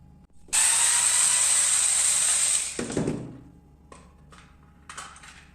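The plastic case of a fake drill battery is being opened, with a bright electric whir for about two seconds, then plastic clatter, and a few scattered clicks and knocks, close and alone.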